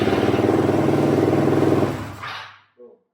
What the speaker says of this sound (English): So now we're going to give it a shot and see if it'll start up.